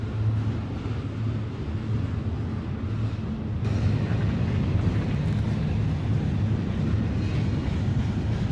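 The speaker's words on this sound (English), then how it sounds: "An eastbound intermodal double-stack train traverses the pass on track number 2 and approaches Summit after passing Hill 582." An eastbound intermodal double-stack freight train climbs Cajon Pass on track 2 toward Summit, giving a steady, loud rumble with low engine drone that holds throughout, swelling slightly partway through, with no voices.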